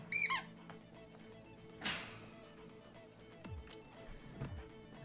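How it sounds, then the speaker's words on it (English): Waltz, the streamer's pet, gives a quick burst of high, squeaky chirps at the very start. Soft rustles and a few faint thumps follow in a quiet room. "The squeak is this motherfucker."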